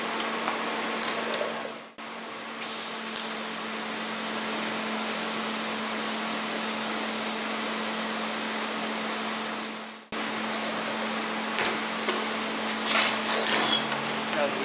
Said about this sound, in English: So let's go ahead and make a tack weld on that.